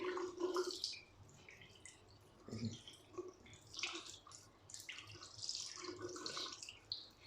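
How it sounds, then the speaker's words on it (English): Water trickles and drips over sealed bathroom floor tiles in scattered splashes and small gurgles, faint and intermittent, with quiet talking in the background. "The water is running down."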